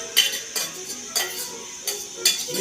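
A utensil stirring food in a frying pan, producing several distinct metallic scrapes and clinks at irregular intervals over a quiet background, fairly close and with no talking.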